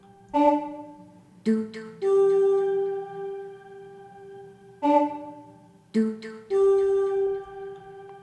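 Layered synth tones with a vocal quality play a repeating phrase: short plucked stabs leading into longer sustained notes, twice over, clean and up front.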